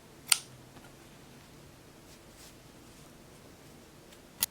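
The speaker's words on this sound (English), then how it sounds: "chain 1 and snip off my yarn" Scissors snip crochet yarn: one short crisp cut near the start and another at the end, close, over a quiet room.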